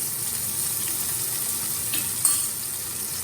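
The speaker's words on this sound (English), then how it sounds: "to season my oil, I'm adding the garlic and onions and some of those scallions" Garlic, onions and scallions sizzle steadily in seasoned oil in a wok, a continuous close hiss with a faint clink of a utensil partway through and no talking.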